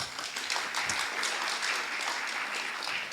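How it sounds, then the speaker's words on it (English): A crowd at a political talk with Alabama's lieutenant governor bursts into dense applause, steady and fairly loud for a few seconds with no one talking. "big round of applause for that"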